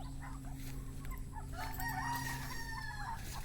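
A rooster crows loudly nearby, a drawn-out call rising over scattered clucking hens and a steady low background hum.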